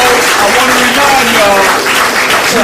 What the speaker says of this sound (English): Everybody, give Bobby a round of applause.